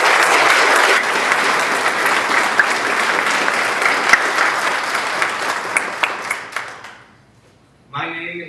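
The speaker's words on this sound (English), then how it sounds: "I feel like we should all give her a round of applause." Loud, dense audience applause rolls on for about seven seconds, with a few sharper individual claps near the end before it dies away; a voice briefly starts up afterward.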